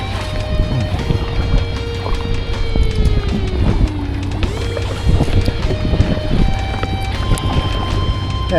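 A large boat powers past a kayak on open water, its wake churning close by, with steady wind buffeting the microphone and thin whistling tones rising and falling throughout.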